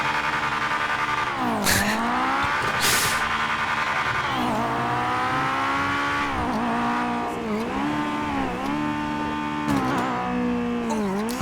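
An Acura RSX Type-S in GTA 5 is driven hard with its engine revving in repeated rising and falling surges, and its tires squeal and skid, loud and close throughout.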